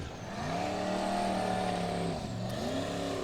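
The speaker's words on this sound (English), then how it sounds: "Now we have Jón Reynir driving a Thunderbolt." A Formula Offroad racer, a Thunderbolt buggy, revs its engine loudly and steadily at an off-road hill-climb event in Dyersburg, the pitch rising and sustained with a dip and rise near the end, no talk.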